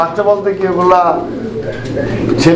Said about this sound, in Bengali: এখানে চমৎকার আরও একজোড়া কবুতরের কালেকশন রয়েছে তো রেসার কবুতর